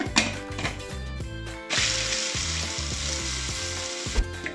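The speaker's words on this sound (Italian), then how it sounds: "Per iniziare riduciamo i nostri anacardi a farina fine." Samurai food processor with a chopping blade grinding cashews into fine flour: close, pulsing whirring bursts with rattling and a steadier grinding stretch in the middle, and no voices.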